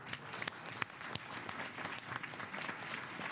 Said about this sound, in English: we can all give you a round of applause.